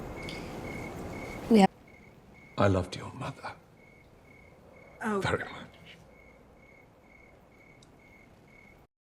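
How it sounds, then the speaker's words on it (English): Crickets chirp in a steady pulsing trill that keeps up throughout. Between the chirps, people exchange a few brief spoken lines. "Literal crickets."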